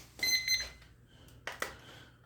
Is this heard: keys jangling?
no